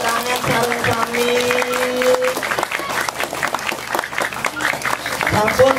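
An audience at a lively village comedy show in Gianyar, Bali claps continuously, dense crowd applause mixed with loud talking and shouting voices throughout.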